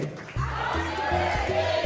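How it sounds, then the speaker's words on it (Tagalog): Party guests at a retro-themed birthday celebration erupt in group shouting and cheering after a short quiet start, loud and close with overlapping voices. "Palakpakan sigawan!"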